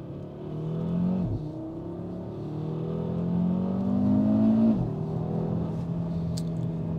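Five-cylinder engine of a Cupra Formentor VZ5 heard from inside as it accelerates, a steady low drone whose pitch climbs through a gear, dips at a shift, then rises again, moderately loud and alone.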